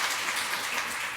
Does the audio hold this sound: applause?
yes